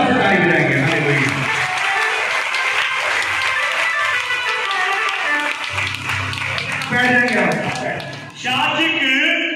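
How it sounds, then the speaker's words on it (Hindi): A church congregation bursts into loud, sustained applause, dense hand clapping rising and falling across the room while a voice speaks over it and a music or vocal tone enters near the end. "सारे यीशु मसीह की महिमा के लिए जोरदार से ताली बजाएंगे।"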